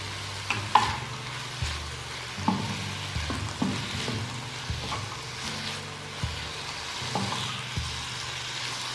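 Chicken pieces frying in a pan with salt, black pepper and crushed red chillies, a steady close sizzle broken by repeated scrapes and clanks of a spoon stirring against the pan.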